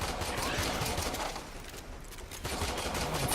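Rapid automatic gunfire from a weapon in the video game Warframe, a dense and continuous burst of shots that keeps a steady, loud wash of noise with a brief dip near the middle.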